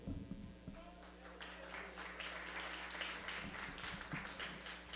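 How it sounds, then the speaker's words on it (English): Audience applause for the Student Leadership Council brothers at a live event, a steady wash of many hands clapping, moderately loud and continuous throughout with a low hum underneath. "let's give another round of applause for the brothers of the SLC"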